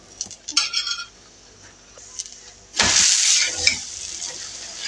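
Lachha paratha frying in ghee on a pan: light clinks of utensils at first, then a loud burst of hissing sizzle that carries on more softly to the end, close by.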